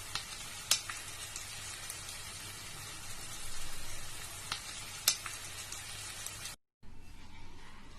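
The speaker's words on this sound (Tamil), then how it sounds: "கடாயை வச்சு எண்ணெய் ஊத்தி இருக்கோமா. சிக்கன் 65 செய்ய போறோம்." Marinated chicken 65 deep-frying in hot oil in a kadai, a dense steady sizzle with occasional sharp pops and crackles, close and continuous before a brief cut to quieter frying, no voices.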